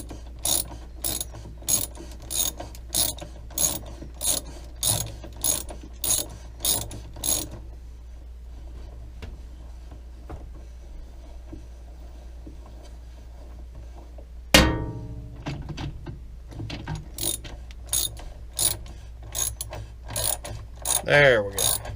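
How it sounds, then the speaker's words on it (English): Close, crisp clicking of a socket wrench ratcheting as it tightens a washing machine agitator, in two rhythmic runs of repeated clicks separated by a quiet gap and a single clunk. "Adjust our socket to tighten instead of loosen."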